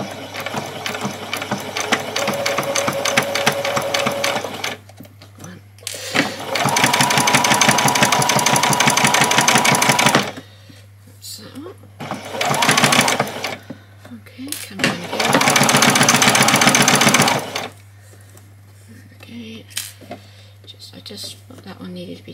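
A sewing machine runs a straight stitch on a doll's dress in several bursts of steady, rapid whirring separated by pauses, with a person talking between runs.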